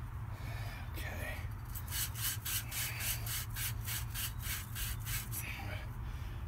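Rapid back-and-forth strokes sand the outside of a copper irrigation pipe, about a dozen evenly spaced scratchy rasps, close and steady over a constant low background hum.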